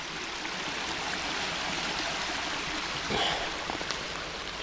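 A mountain stream rushes steadily close by, a dense broadband hiss of flowing water with a few faint knocks and footsteps over it.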